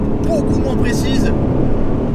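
Renault Clio V6 engine rumbling loudly and steadily while driving, a continuous low roar inside the car with road noise and a faint whine.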